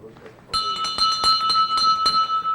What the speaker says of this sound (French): Chaque fois qu'on conclut une bonne transaction, on sonne la cloche chez Colliers.